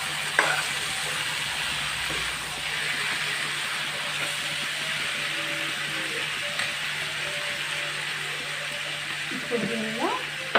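Tomato pieces frying in a pan alongside egg make a dense, even sizzle that runs steadily throughout, with a few light scrapes of stirring near the start and end.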